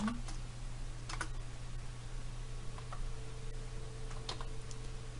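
Keystrokes on a computer keyboard while entering a formula in a dashboard, a few faint scattered clicks in small clusters over a steady electrical hum and hiss, with no talking.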